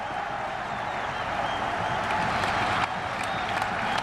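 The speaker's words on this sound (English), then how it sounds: "Good round of applause from the spectators and his teammates" Spectators and teammates at a cricket Test match between Bangladesh and the West Indies applaud across the ground, a distant, steady wash of clapping under faint crowd noise.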